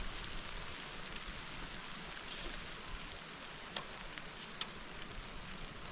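Rain falls steadily in a continuous, faint hiss with a few soft drip ticks, no voices heard.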